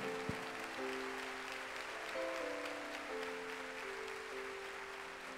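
A church congregation applauds steadily throughout, a dense wash of clapping with a faint sustained tonal hum beneath it and no voices standing out.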